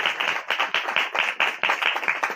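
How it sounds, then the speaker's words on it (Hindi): A church congregation claps in praise, a dense run of sharp handclaps in a steady rhythm that carries on without talk. "जोरदार तालियां बजाएं यीशु के जलाल के लिए"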